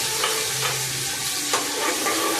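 Tomato, onion and garlic paste frying in sesame oil for a prawn curry, a dense continuous sizzle close by with soft spatula strokes stirring through it.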